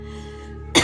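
A single short, sharp cough bursts out at the end of a quiet stretch with a steady tonal hum in the background.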